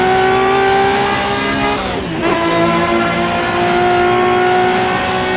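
A 1960s sports car engine in the Assetto Corsa racing game, revving loud and close down the long straight at Riverside, with a brief dip and drop in pitch at a gear change before climbing again.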